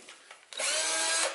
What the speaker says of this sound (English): So now we've got our holes drilled.